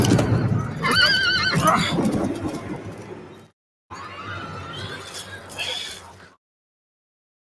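A horse in the video game Diablo IV lets out a loud close whinny with hoofbeats, then goes silent briefly before more snorting and neighing, while a player talks over it.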